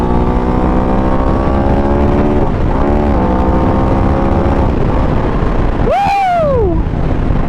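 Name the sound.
Aprilia RS 660 motorcycle engine accelerating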